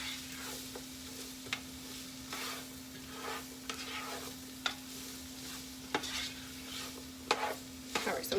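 Food sizzling in a pan before cabbage is added, a steady low crackle and hiss with occasional stirring clicks and scrapes, close and quiet, with no voices.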